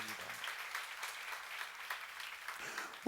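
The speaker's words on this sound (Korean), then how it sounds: "박수를 하나 드리시기 바랍니다" A church congregation at a Korean Christian seminar applauds in a steady, moderate round of clapping that holds evenly for about three seconds, with a brief louder burst at the very end.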